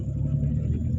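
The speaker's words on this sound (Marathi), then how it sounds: "त्या रेस द्या, नाही तर बंद पडेल. त्या रेस एक्सलेटर द्या" A car engine held under accelerator while driving slowly on a rough road, a steady low rumbling drone for about a second.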